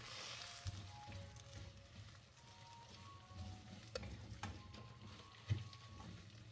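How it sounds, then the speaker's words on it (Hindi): Two hundred grams of vermicelli frying in ghee, a faint, soft sizzle close by with occasional clicks and scrapes of stirring. "अब मेरे पास उसी घी के अंदर ये 200 ग्राम सेवइयाँ हैं, इनको फ्राई कर लेते हैं।"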